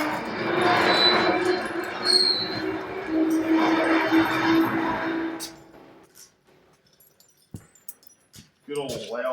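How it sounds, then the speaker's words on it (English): A loud overhead crane runs in a workshop during front suspension repair on a car, giving a sustained mechanical roar and whine for several seconds before cutting out, followed by quieter shop clatter and a brief voice. "Good old loud overhead crane there."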